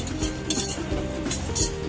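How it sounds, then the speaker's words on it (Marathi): A spoon scrapes and clinks repeatedly against a pan as garam masala with coriander powder is stirred and dry-roasted, a close, rhythmic metallic stirring with no voices. "असंच ढवळून भाजून घ्यायचा गरम मसाला"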